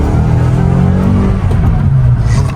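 A Toyota car pulls away and accelerates, its mid-range engine rising into a loud, close revving drone that holds strong for a couple of seconds with a brief dip midway.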